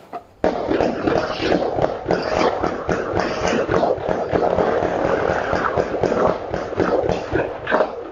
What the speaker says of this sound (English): There was only this one pause before a fury of bullets unload again for 20 more seconds.